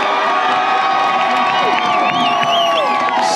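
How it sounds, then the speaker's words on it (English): A large outdoor crowd at a pro-Palestine protest in Glasgow cheers and whoops continuously, a loud, sustained roar with high shouts and whistles rising above it. "Give every single Palestinian a cheer right now"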